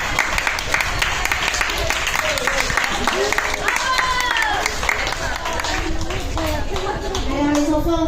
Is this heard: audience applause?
yes